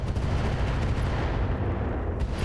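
Incendiary weapon fire against a vehicle in the RogueTech battle game, a loud, dense, continuous roar of rumbling fire and blasts that holds steady throughout with no talk.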